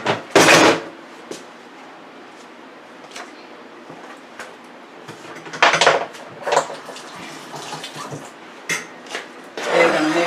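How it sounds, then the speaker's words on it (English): Meat stirred into egg wash in a bowl while making fried nuggets, with several loud, close clatters of utensils and dishes over quieter kitchen handling. "now that I mix my egg wash up, I'm going to put the meat right in it."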